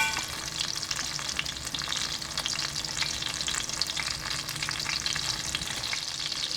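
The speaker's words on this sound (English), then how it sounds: "you can also partially cook these by frying them" A dense, continuous sizzle of turkey cutlets frying in hot oil, crackling and popping steadily up close with no talking.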